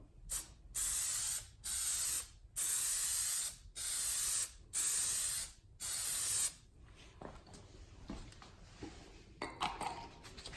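Plasti Dip aerosol can spraying a coat onto a Honda Accord emblem, six short even hissing bursts in a steady rhythm, close and crisp, followed by quieter handling noise and no talk.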